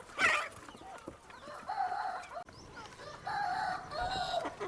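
Country chickens cluck and call in a busy flock while feeding, with a rooster crowing, steady bird chatter continuing throughout.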